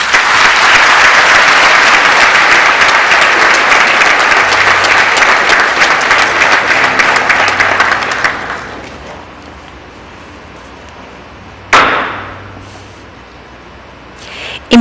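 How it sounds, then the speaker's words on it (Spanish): A ceremony audience applauds loudly and steadily, the dense clapping fading out after several seconds, then a brief sharp burst of noise and quiet room tone follow. "Un fuerte aplauso,"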